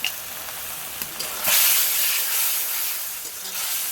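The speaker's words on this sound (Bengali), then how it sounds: "দিয়ে মশলাটা ভালো করে তেল ছাড়া পর্যন্ত কষে নেবো।" Spice paste with salt, turmeric, chili powder and coriander powder fries in oil for a katla fish curry with potato and stalks, giving a broad sizzling hiss that swells midway and stays steady, close and fairly loud.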